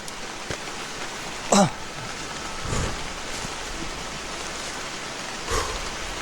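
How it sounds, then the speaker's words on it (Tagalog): Steady hiss of heavy rain falling, with a few sharp knocks and rustles breaking through. "Ulan talaga bro."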